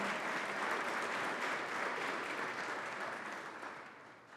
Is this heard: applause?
yes